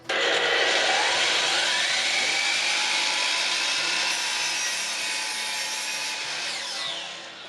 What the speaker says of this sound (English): We'll just listen to the saw.